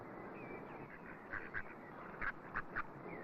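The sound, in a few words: mallard ducks quacking in reeds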